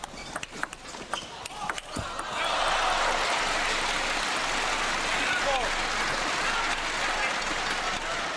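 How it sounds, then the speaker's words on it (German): The home crowd roars at a table tennis match in the Shanghai Gymnasium, rising after a few ball taps into loud, sustained cheering and applause as a commentator talks over it. "Natürlich jeder Punkt vom heimischen Publikum im Shanghai Gymnasium frenetisch bejubelt."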